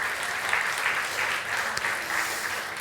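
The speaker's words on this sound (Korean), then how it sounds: "우리 청년 단빛 청년부와 우리 목사님을 위해서 박수 한번 해주시죠" A church congregation at a joint worship service claps together in steady, even applause for the young adults' group and the pastor, a dense wash of hands filling the room throughout.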